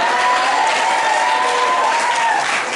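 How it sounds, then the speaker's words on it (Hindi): A crowd at a Hindi cultural event in Nagda claps steadily, and the dense applause holds at a constant loud level with no pause. "और अब तालियां बजनी चाहिए"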